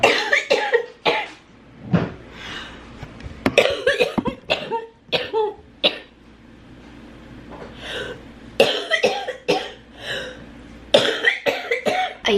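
A person coughs repeatedly in loose clusters of harsh, close bursts, separated by short quiet pauses, with no talking.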